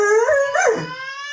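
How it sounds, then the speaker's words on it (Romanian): A single dog in a video game howls up close, a drawn-out whining cry that rises and falls in pitch. "Ia, alt cățel."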